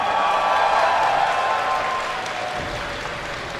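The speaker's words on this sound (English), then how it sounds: "Give a cheer for Naniwa!" An esports audience at a StarCraft 2 tournament applauds and cheers as a player is introduced, a steady wash of many hands clapping with voices mixed in, slowly easing off toward the end.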